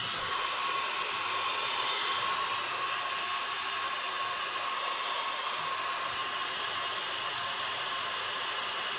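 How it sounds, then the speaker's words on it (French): A hair dryer blows steadily at full power, a constant loud whooshing hum with no pauses, drying the fuel tank of a 1983 Yamaha 125 DTMX motorcycle. "on va prendre le sèche-cheveux"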